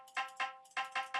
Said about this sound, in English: I just pasted in the tabla hits